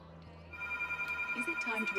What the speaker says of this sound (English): I don't know if you guys can hear the phone ringing in the background there